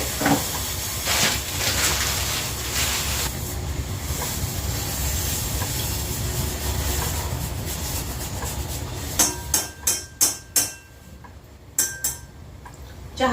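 A steady, close hiss and bubbling of jaggery tea with ginger boiling in a pot on the stove runs for several seconds, then gives way to a few sharp clinks and taps.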